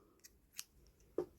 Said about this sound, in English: And then we can cut that, leaving just a tiny little tail.